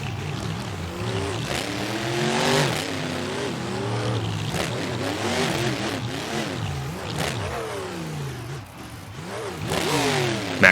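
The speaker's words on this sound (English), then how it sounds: "Max D revving the engine for the fans, letting you hear him" Max D, a monster truck, revs its engine for the crowd at an arena racing event, repeated rising and falling roars one after another, loud and close, with no talk over it.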